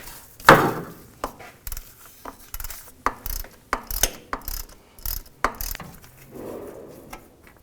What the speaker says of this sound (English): Using a 19mm socket, go over the sensor and just loosen it up.